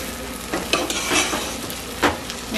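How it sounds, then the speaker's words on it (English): White rice cooked with pork fat is stirred in a pot, a spoon scraping and turning the grains amid a soft sizzle, with a few distinct scrapes rising above the steady frying hiss. "I'm gonna come and stir it"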